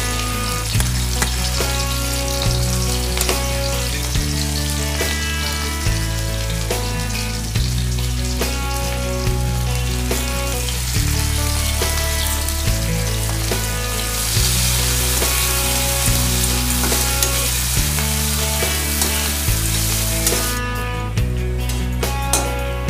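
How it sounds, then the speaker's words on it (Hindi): Onions fry in hot oil with a continuous sizzle, while steady background music plays and a brief clatter sounds near the end. "ऑयल गर्म होगी, इसमें हम प्याज डालेंगे।"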